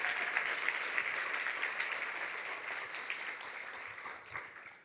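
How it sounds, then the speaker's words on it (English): A summit audience gives a sustained round of applause, dense continuous clapping that stays steady and then gradually thins and fades toward the end. "give yourselves a round of applause for that."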